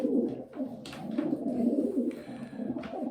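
A breeding pigeon coos steadily and close by, a low throaty warbling that rolls on without pause.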